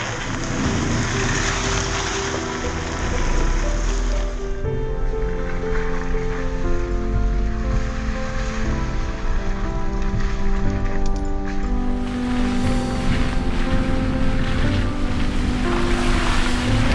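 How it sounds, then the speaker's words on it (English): Rain pelts a vehicle driving on a road in British Columbia, Canada: a steady, loud wash of spray and patter over a low engine and road hum, continuous throughout with no talking. "Mother Nature has decided that we're not quite done with the rain yet."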